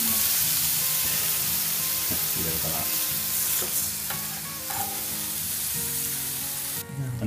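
Bacon sizzles in a Smart Bacon Express cooker, a continuous crackling fry with occasional pops and faint clicks, heard close and steady throughout.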